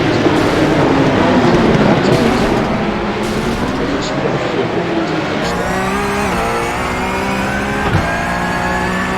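Porsche Cup race cars roaring together through the opening lap at Long Beach in the iRacing sim, a loud dense engine drone with shifting revs and gear changes throughout.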